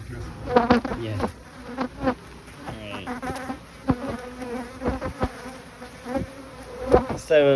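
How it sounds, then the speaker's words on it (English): Bees swarm around a beehive at an apiary, a dense, continuous close-up buzzing with individual insects droning past and rising and falling in pitch, no voices heard. "So, like a bee farm is called an apiary?"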